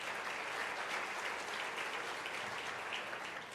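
Large audience at the U.S. Africa Leaders Summit applauding dignitaries, a steady, fairly distant wash of clapping that continues evenly throughout without a break.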